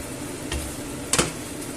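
Fried tomato being stirred into a chicken breast and vegetable stew, a short scraping stir with a sizzling pot underneath, two brief spoon strokes standing out near the middle.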